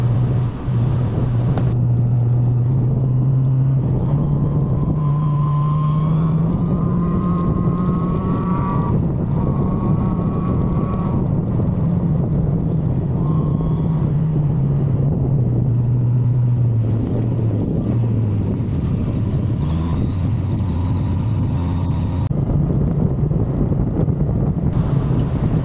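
A 1985 Suzuki GSX-R750 motorcycle engine roars steadily at speed, pitch rising and falling as revs change, with heavy wind rush buffeting the microphone throughout.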